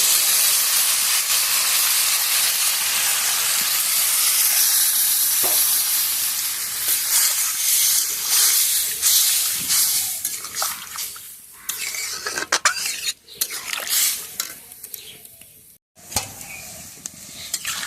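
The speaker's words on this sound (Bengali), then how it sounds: "এখন আমি এর মধ্যে পরিমাণ মতো জল দিয়ে দেব" Loud sizzling and hissing from a hot pan as water is added to a vegetable curry with fish, the sputter gradually calming into softer bubbling with stirring clinks.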